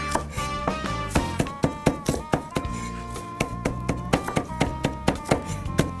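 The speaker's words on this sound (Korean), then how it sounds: "눌러준 다음에 이렇게 사선으로 썰어요" A knife slices food diagonally on a cutting board in a quick run of sharp chops, close and crisp, with irregular pauses between bursts and no talk.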